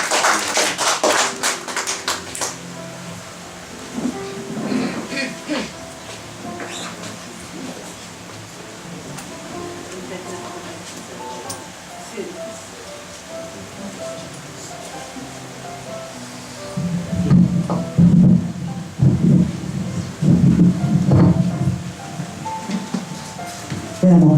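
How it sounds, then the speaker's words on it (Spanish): A church congregation in Lima, Peru applauding during a service, with bursts of clapping at the start and a louder wave near the end, mixed with voices speaking and calling out. "Denle un aplauso al Señor."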